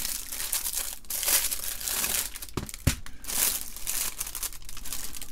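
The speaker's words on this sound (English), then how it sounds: "Sorry for all the crinkly noises." Plastic wrap crinkles and tears as it comes off a boxed assortment of electrolytic capacitors, a close, steady rustling with a couple of sharper crackles partway through, no talking.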